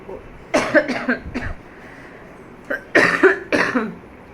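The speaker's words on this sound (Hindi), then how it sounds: "ये देखिए मुझे खांसी कितनी हो रही है।" Several harsh coughs, close by, in two clusters separated by a short quiet gap.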